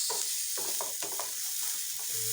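Onions fry in a pan for a homemade pizza topping. The sound is a close, sizzling crackle, broken by several scraping stirs in an uneven rhythm, with no talk.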